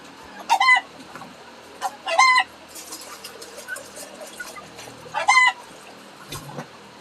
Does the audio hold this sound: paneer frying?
no